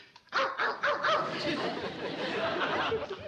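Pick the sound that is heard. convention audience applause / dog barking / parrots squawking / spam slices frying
dog barking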